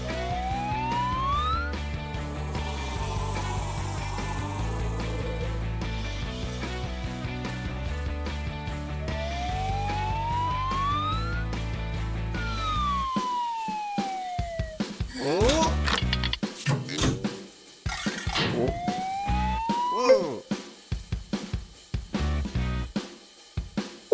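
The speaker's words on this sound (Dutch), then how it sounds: "Transformeer in een hele grote ambulance." A loud wailing cartoon ambulance siren rises and falls repeatedly, then gives way to clattering and thumping noises with a few short swooping tones.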